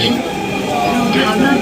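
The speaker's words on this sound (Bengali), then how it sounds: "আমরা এই মুহূর্তে মেট্রো রেল যুক্ত আছি" A steady rumbling Dhaka metro train ride with constant wheel and motor noise, close and fairly loud throughout.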